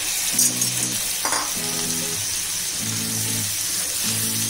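Half a kilo of prawns fry in a pan for spicy butter garlic prawns, giving a steady close sizzle with short low humming tones rising and falling through it.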